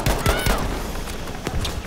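Gunfire in the Battlefield V shooter game: a loud, close burst of rapid shots with booming reports, then a short lull and a few more shots.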